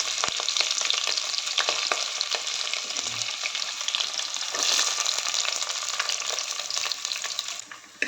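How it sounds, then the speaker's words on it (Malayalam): Small onions sizzle in hot coconut oil with fenugreek seeds in an egg curry pan, a steady loud frying hiss with occasional stirring scrapes, no voices. "ചെറിയ ഉള്ളി ഇട്ട് നന്നായി വണക്കി കൊടുക്കാം"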